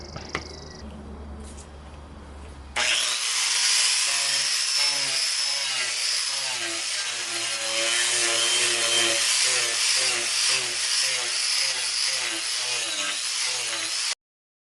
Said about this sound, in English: What I'm using is the Kutzall Extreme grinding dish and a Makita grinder.